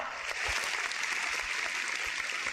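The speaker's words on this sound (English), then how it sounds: "let's have an applause for Mr. Budi Ganda Subrata" A livestreamed policy talk audience gives a speaker brief, moderately faint applause, a steady spread of clapping with a few sharper individual claps standing out.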